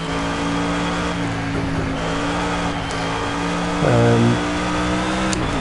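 A loud, steady race car engine in the video game Project CARS drones with strong harmonic tones, rising briefly into a louder rev near the end, with no voices.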